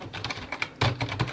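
Typing on an old PS2 computer keyboard with fairly stiff keys, a quick run of distinct clicky keystrokes heard up close in a short burst, with no voices.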